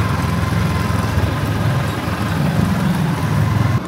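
A motorcycle engine runs continuously at a steady rumble, close and fairly loud, with slight swells in pitch as it rides along.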